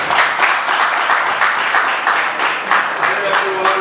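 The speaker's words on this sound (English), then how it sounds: "Okay, continue clapping." An audience at a teaching competition finale applauds steadily, with dense clapping throughout, fairly close and loud, and voices can be heard beneath it.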